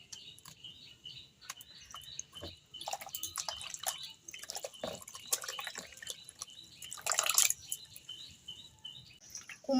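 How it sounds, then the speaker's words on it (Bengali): Pumpkin flowers are rinsed in water, giving uneven drips, trickles and small splashes, with birds chirping faintly in the background. "ফুলগুলো পরিষ্কার করে ধুয়ে নেব"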